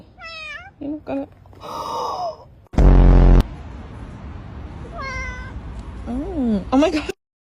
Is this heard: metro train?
no